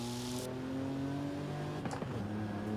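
A retro car's engine in Forza Horizon 5 drones steadily from inside the cabin, with a brief rising rev and a few sharp pops near the end.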